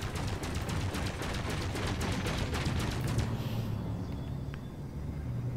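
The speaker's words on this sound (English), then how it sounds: "The multi-cannon." Multi-cannon fire in the Elite Dangerous space combat game: a rapid rattling stream of shots for about three seconds, then it cuts off and leaves a faint ambient hum.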